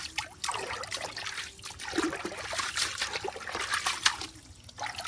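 Fresh false daisy herb is rinsed by hand in a basin of water, with close trickling, sloshing and dribbling sounds that rise and fall steadily without any talk.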